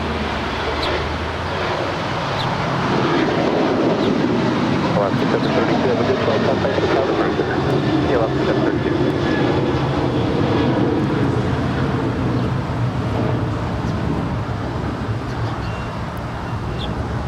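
Boeing 747 jet departing from a parallel runway at LAX, a loud sustained roar of jet engines swelling and holding, heard at a distance with radio chatter and talk over it.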